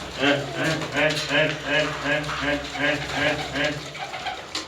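Pigeons coo in a loft, a close rhythmic chorus of soft throaty rolls repeating steadily, with someone speaking over them.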